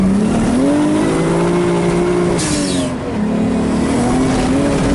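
A 1JZ-swapped Nissan S14 drift car, running rich with a blown turbo and welded diff, pulls hard in second gear; the loud engine note climbs, dips briefly, then climbs again.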